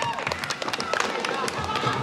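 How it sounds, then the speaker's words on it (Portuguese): Spectators lining the finish of a city marathon in Norway clap steadily for an arriving runner, a crisp scattered patter of hands at moderate distance over street ambience. "lá vem mais uma pessoa recebendo as palmas da galera"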